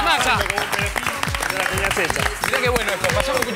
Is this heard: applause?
yes